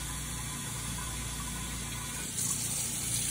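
Hot water from a sink tap pours into a wine carboy with a steady, even rushing hiss that grows slightly louder and brighter toward the end.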